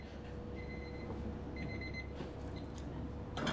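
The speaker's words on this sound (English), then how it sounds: "That's my timer." A kitchen timer beeps a few short tones at a moderate distance over a steady kitchen hum where duck ragu pasta is being cooked, followed by a brief clatter near the end.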